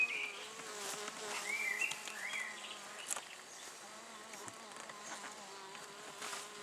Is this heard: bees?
yes